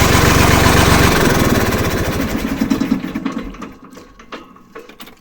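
A small engine runs loud and close with a rapid chugging beat that slows and fades as it winds down, driving a homemade ejector for a vacuum pumpkin seeder.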